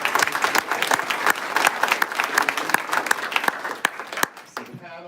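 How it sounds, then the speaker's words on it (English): Audience at an Orange County Board of Education meeting applauds the board, steady dense clapping across the room with sharp individual claps and a few voices and cheers mixed in, fading at the end. "I'm just going to ask to give the board a big round of applause"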